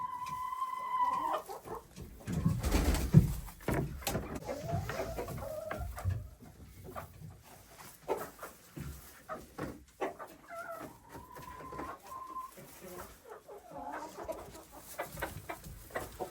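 Hens cluck and murmur close by, with a few louder squawks and scattered shuffling and rustling noises in a quiet coop in winter.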